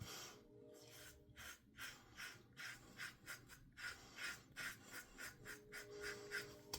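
A razor scrapes across skin in a steady series of short rasping strokes, close and soft, with quiet pauses between passes.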